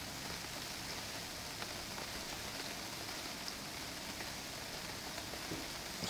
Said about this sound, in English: it's going to rain a lot this month